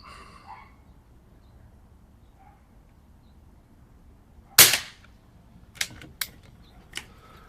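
A Umarex Zelos .25 air rifle fires without a moderator outdoors: one sharp, loud crack followed by three quicker, lighter snaps spaced about half a second apart, with quiet ambience in between.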